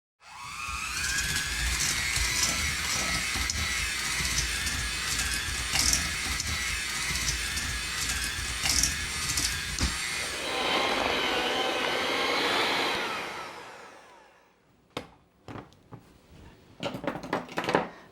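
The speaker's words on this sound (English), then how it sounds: "Now I'm going to beat this together, so obviously you're not going to hear me over it" Electric mixer beating peanut butter cookie dough in a home kitchen, a loud steady whirring drone for about thirteen seconds that shifts tone partway through, then cuts off, leaving a few faint clatters.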